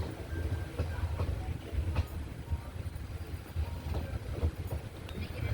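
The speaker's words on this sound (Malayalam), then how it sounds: "അപ്പോൾ നമ്മുടെ ട്രെയിൻ പ്ലാറ്റ്ഫോമിലേക്ക് കയറിക്കൊണ്ടിരിക്കുകയാണ്." Guruvayur Express train pulling into Virudhunagar Junction platform, a steady low rumble with rhythmic wheel clatter heard from inside a carriage, fairly quiet.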